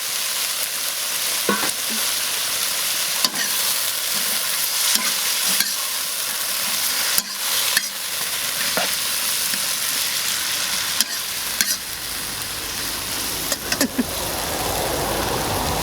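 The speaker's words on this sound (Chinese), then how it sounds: "再把这个藤下锅炒" Sweet potato vines are stir-fried in a wok, giving a continuous loud sizzle with repeated scraping and clanking strokes of a spatula, and no talk.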